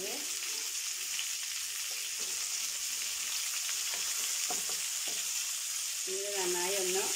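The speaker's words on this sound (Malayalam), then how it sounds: "ഇതിലേക്ക് സവാള ചേർത്ത് കൊടുക്കുകയാണ് ഇതിലേക്ക് മൂന്ന് സവാളയാണ് ചേർത്ത് കൊടുത്തിട്ടുള്ളത്" Three onions fry in a pan for biryani, giving a soft, steady sizzle with occasional stirring scrapes, and a brief voice comes in near the end.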